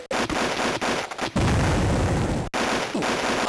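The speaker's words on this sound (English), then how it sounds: "A mortar." Mortar fire in the Army Men video game: loud, sustained rumbling blasts with sharp cutoffs between them and a heavy booming roll in the middle, no voices.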